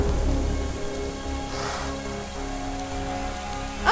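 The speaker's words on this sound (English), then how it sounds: "We've got rain." Steady rain falling in the video game World of Goo, a soft even patter of drops over a low background hum, continuous and unbroken by voices.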